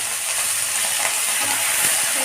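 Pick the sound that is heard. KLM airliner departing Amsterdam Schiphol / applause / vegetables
vegetables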